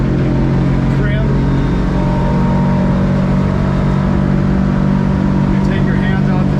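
24-foot Edgewater boat with a Yamaha F300 outboard at full throttle, a loud, constant engine drone with strong low hum and wind and water rush, the steady roar filling the whole stretch while someone talks over it.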